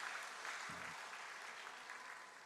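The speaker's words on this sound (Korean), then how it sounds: "우리 박수로 한번 축하해 주세요" A church congregation at a Sunday service in Busan claps together in celebration, a dense even applause heard from within the hall that fades slightly toward the end.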